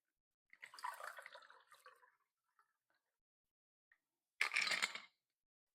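Sparkling water poured into a glass, two short bursts of quiet, close fizzing splash separated by near silence and a few tiny drips.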